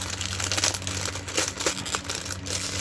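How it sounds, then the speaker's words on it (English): Plastic bags holding Gundam model kit parts crinkle and rustle steadily close by, with irregular louder crackles as the pieces are pulled out, and no one speaking. "remove them from the plastic bags"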